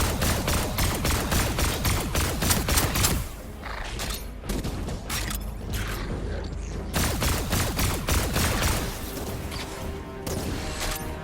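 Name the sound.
weapon hip firing in video game Fortnite Save The World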